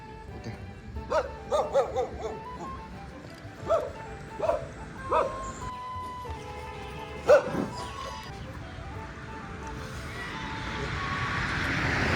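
Dog barking outdoors along a roadside tea stop in Nepal, a series of separate barks and yips spread over several seconds, moderately close, with traffic noise and wind rising toward the end.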